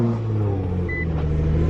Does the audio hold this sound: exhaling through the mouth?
no